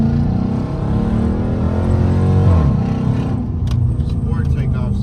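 A Hemi car in sport mode roars under hard acceleration, its engine note climbing and then easing off, while someone talks excitedly over the steady, loud drone.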